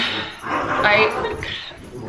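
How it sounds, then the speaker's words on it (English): Dogs scampering around indoors at home, giving a few short yips and whimpery barks close by over shuffling and background household noise. "My dogs are running around like crazy animals."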